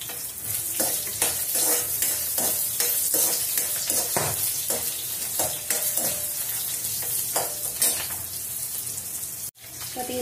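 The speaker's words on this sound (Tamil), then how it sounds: "இந்த மாதிரி நல்ல படப்படன்னு சத்தம் வந்ததுக்கு அப்புறம் சின்ன வெங்காயத்தை" Coriander and chillies spluttering in hot oil in a pan, a dense continuous sizzle with rapid crackling pops and stirring, close and fairly loud throughout.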